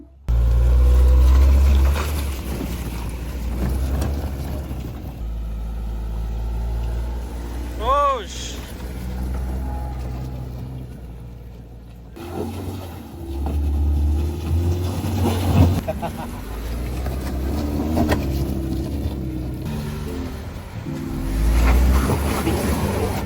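Several off-road cars climbing a rocky alternative trail through forest toward Lembah Pasir Sumbul, a steady low engine rumble with occasional revving, under frequent nearby conversation.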